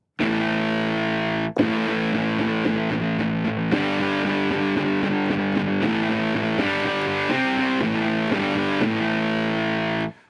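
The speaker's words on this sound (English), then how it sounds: "As soon as I add distortion, I add more harmonics." Heavily distorted, fuzzy electric guitar chords through a fuzz pedal ring out loud and sustained, with one brief break early on, thick with buzzing harmonics.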